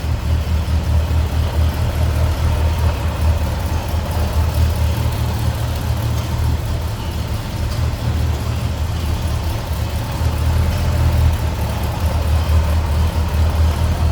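A 1980 Chevrolet K10 Custom Deluxe 4x4 pickup with a 350 V8 idles steadily nearby, a continuous low rumble with a smooth, even throb that holds for the whole stretch, with no talking over it.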